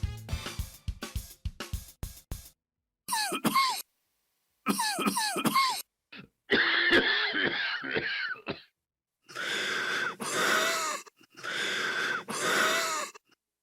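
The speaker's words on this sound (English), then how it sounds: "Could that cough be telling you something?" A series of coughs, wheezes and strained breaths come in separate bursts with silences between, some harsh and raspy, close and fairly loud.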